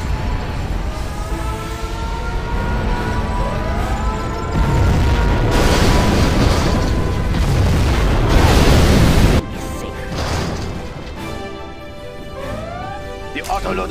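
A nuclear missile launches and detonates in Command & Conquer Generals Zero Hour, a swelling, roaring explosion that builds over several seconds and then drops off, mixed with battle noise and a spoken announcer voice.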